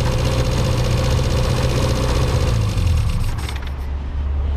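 A Mini engine fitted with a Weber carburetor runs steadily at a rough idle, a close, loud, buzzing drone with a faint knocking texture that eases slightly near the end.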